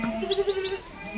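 Brown goat kids about fifteen days old give a short wavering bleat, close and clear over faint background noise.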